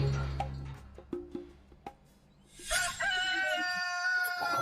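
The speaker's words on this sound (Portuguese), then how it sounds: "Que cedo o galo cantou." A rooster crows in the early morning, a clear, loud, drawn-out cock-a-doodle-doo that rises and holds after some soft clucks and scattered knocks.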